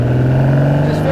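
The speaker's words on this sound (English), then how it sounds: "Obviously, it sounds more racy. The exhaust blow is a lot louder" Ferrari 250 GT Berlinetta Lusso engine and exhaust holding a steady, loud droning rev, heard from inside the cabin with a voice talking over it.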